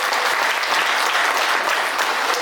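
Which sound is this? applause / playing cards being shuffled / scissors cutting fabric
applause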